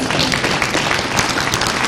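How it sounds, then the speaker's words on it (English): A crowd claps in dense, steady applause for a couple of seconds, loud and close throughout. "Give him a round of applause."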